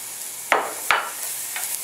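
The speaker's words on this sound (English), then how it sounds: "And a little bit saute." Mushrooms and onion sauté in a pan: a soft continuous sizzle broken by two sharp scraping stirs in quick succession, then lighter utensil movements, close and fairly quiet, with no talking.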